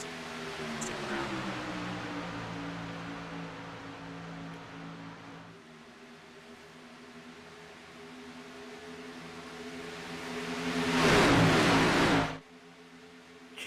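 Xfinity Series stock car engines roar loudly on a superspeedway at Daytona, a steady droning engine note that swells into a loud close pass near the end before dropping away.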